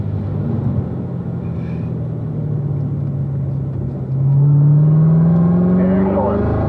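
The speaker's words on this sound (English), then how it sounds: "Now we can accelerate out and off we go." A car accelerating out of a corner on the Spring Mountain race track: a steady engine drone swells at about four seconds into a louder, rising rev that climbs to the end.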